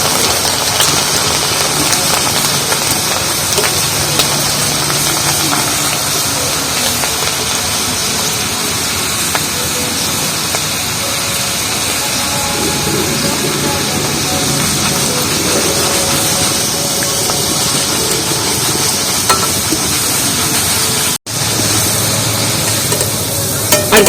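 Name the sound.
dal (lentils) frying in hot oil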